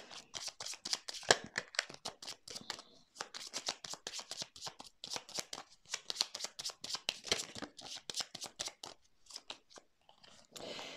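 Tarot cards slide and snap down one after another in quick, irregular bursts, close and crisp, pausing briefly between batches, with no speech over them.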